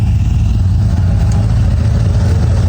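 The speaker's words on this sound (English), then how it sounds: "Got the truck running." A truck engine idles after a jump start, loud and close, with a steady low rumble and continuous throb throughout, alone without talk.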